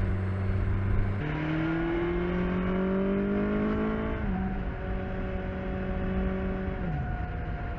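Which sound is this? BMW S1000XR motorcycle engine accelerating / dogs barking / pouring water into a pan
BMW S1000XR motorcycle engine accelerating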